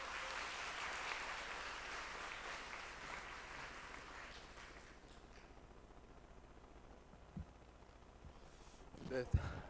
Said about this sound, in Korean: 큰 박수로 모셔주시면 감사하겠습니다.